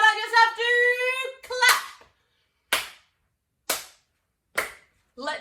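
Four sharp, separate hand claps ring out alone at steady intervals, each followed by a brief decay, after a child's sing-song voice and speech at the start.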